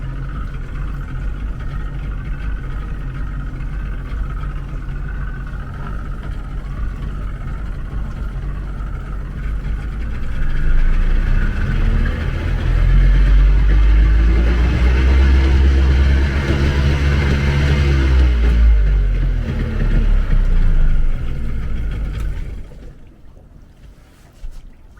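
A boat engine runs steadily and loudly up close, its drone rising in a surge midway alongside wind and water noise before dropping off sharply near the end, with no talking.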